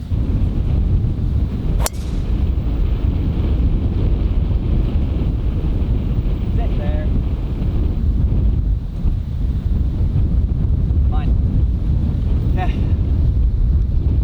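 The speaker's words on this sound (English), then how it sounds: "the wind just picks up like crazy. It started gusting right there" Strong wind gusts across an open golf course in Florida, buffeting the microphone with a constant heavy rumble for the whole stretch, broken by a sharp knock and a few faint sounds nearby.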